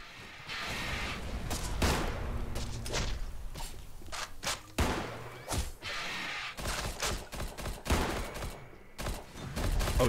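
Gunfire in the space station game Space Station 13: irregular bursts of close, sharp shots and rapid volleys mixed with thuds and footsteps, spread across the whole stretch with no talking.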